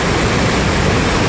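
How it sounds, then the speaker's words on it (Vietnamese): A swollen mountain stream rushes after heavy rain at Chu Va, Tam Đường, Lai Châu, a steady, loud, unbroken roar of churning water close by, with no voices. "Hôm nay suối rất là to"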